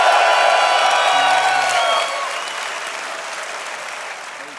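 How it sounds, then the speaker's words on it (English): Loud crowd applause and cheering with a few whoops for a team at a gaming tournament event hall, strongest at first and then tapering to a softer, continuing roar. "Who here is going to be cheering for Team Tranquility,"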